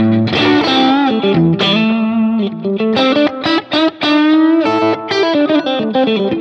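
Electric guitar through a Line 6 Helix with a brightening tilt EQ, tuned to sound like the middle and bridge pickups together, playing a loud, busy run of notes and chords with effects, close and continuous.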